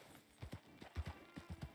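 Horse hooves clip-clop in the Red Dead Online video game, a few close, paired thuds in an uneven trotting rhythm, moderately loud with no talking over them.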